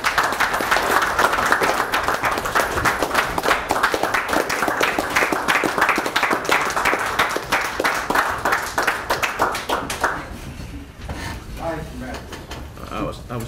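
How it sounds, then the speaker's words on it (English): Attendees at a Palatka city commission meeting give a sustained round of applause, loud and dense for about ten seconds before tapering off to a few scattered claps and room noise. "Just give them a round of applause."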